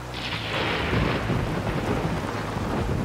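Thunder rumbles loudly through a night downpour. A crackling burst opens into a long low roll while heavy rain hisses steadily underneath the whole time.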